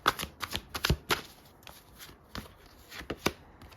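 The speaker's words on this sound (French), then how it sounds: "on va poser les 4 cartes pour vous les Gémeaux" Tarot cards are laid out one by one on a table, a series of crisp slaps and papery flicks in an uneven rhythm, close and fairly quiet, with no voices.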